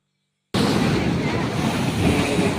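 Floodwater of the swollen Krishna river rushes past, a loud continuous roar with wind buffeting the microphone, starting abruptly after a moment of silence.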